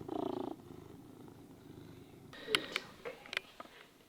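A big, fat neighbor's cat visiting the house purrs in a low steady rumble for the first half second, then quieter household sounds with a few sharp clicks and taps follow.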